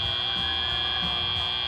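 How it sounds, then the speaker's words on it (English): A match-ending buzzer at a FIRST Robotics Competition district championship qualification match, heard as a loud, steady electronic tone held throughout over a low arena hum. "as the buzzer sounds, we've got ourselves a very close match"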